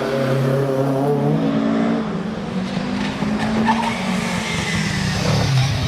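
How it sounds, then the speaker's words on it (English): A Ford Escort RS 1600 launches off the start line at a historic hillclimb, tyres squealing and skidding as the engine roars loudly and steadily for several seconds, close by with no voices. "As off the line goes Simon Braithwaite in his Escort RS 1600"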